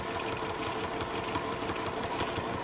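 A sewing machine free-motion quilts closely spaced lines over a hand-embroidered wall hanging, its needle chattering in a fast, steady rhythmic pulse close by and uninterrupted, with no voices.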